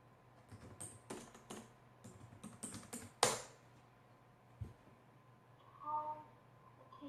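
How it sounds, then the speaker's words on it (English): Typing on a computer keyboard during a live online English lesson, a quick burst of key clicks in the first few seconds followed by a few isolated taps, faint and close, with no speech. "I'll just type it in and see how we go."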